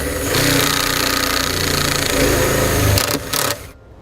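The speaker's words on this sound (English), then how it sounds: "We're just going to use a self-tapping screw that comes provided in the kit to run it into the body here." A power driver with a 1/4 inch socket whirs in a continuous loud buzz as it runs a self-tapping screw into the body of a 2017 Chevrolet, then cuts out and stops abruptly near the end.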